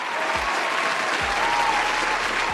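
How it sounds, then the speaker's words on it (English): A dense, steady round of applause from a crowd, loud and continuous for a couple of seconds with no voices over it. "I want to give Tree of Logic, Just Tree 411, a round of applause for that."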